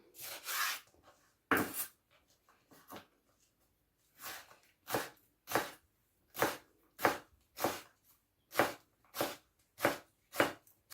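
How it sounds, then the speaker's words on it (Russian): A knife slices vegetables into half-rings on a cutting board while menemen, a Turkish breakfast dish, is being prepared. The cuts come as a run of crisp, evenly paced strokes, close and clear with no talk. "Можно нарезать полукружочками."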